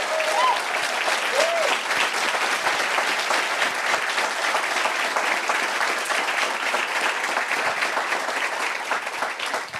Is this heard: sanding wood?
no